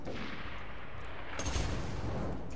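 Gunfire in Borderlands 2, a steady roar of shooting with a louder burst partway through, no talk.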